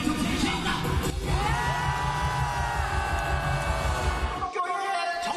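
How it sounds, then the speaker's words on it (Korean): A large outdoor rally crowd at Seoul's Cheonggye Plaza cheers and shouts over a dense, loud backdrop, with rising whoops and amplified sound, and a sudden drop near the end. "군중을 향해 함성을 유도하는가 하면"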